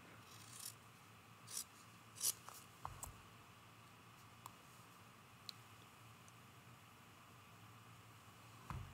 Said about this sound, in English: I'm going to trim a little off right along that edge of the stem.